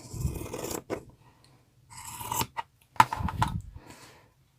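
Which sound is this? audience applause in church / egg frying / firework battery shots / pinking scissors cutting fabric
pinking scissors cutting fabric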